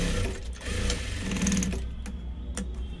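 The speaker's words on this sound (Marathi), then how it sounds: "आपण अंडरलॉक वाली शिलाई अर्ध्या इंचावरतून मारून घेणार आहे" An underlock stitching run on a sewing machine along a blouse seam, a steady close mechanical whir with a rapid stitching chatter that stops abruptly near the end, leaving quieter handling clicks.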